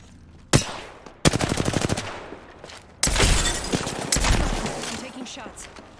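Automatic gunfire in a battle-royale shooter played on a controller, with an R-301 rifle: a sharp opening shot, then rapid rattling bursts and heavy sustained volleys, loud and close with short gaps between them.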